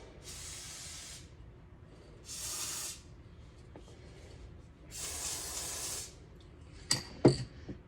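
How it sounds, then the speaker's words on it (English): Three bursts of aerosol spray hiss onto the retaining bolts of a vintage Delta DP220 drill press, each about a second long, separated by quiet pauses, followed by a couple of sharp clicks near the end. "spray the two retaining bolts for this plate"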